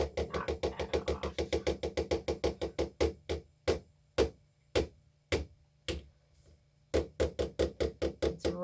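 A homemade oatmeal, milk and honey bath bomb being knocked out of its mold: a rapid run of sharp, hollow taps, then slower spaced single knocks, then another quick burst, close and fairly loud.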